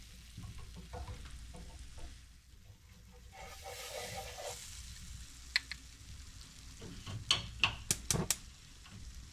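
Ham sizzles in a frying pan on a stovetop, a soft continuous hiss with brief crackles and several sharp clinks of a utensil against the pan near the end.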